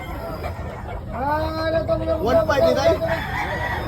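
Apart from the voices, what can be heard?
roosters clucking at a chicken expo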